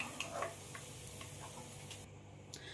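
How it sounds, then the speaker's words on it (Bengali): Sliced onions fry in oil, stirred until browned for chicken dum biryani. The sizzle is soft and steady, broken by a few light clicks from stirring. "ভালো করে এবার আমি নাড়াচাড়া করে পেঁয়াজটা লাল করে ভেজে নেব।"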